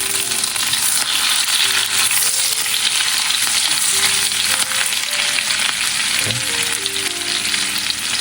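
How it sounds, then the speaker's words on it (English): Chopped ginger sizzles and fries steadily in hot oil in a pan while upma is being made, a dense continuous crackle throughout with no talking. "Let ginger toast a little."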